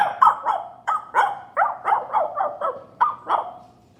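A person imitates a dog barking, producing about a dozen short, evenly spaced barks up close, loud and alone with no other sound.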